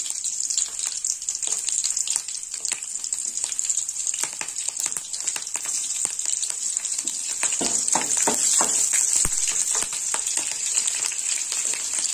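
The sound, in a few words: panch phoron spices and slit green chilli frying in oil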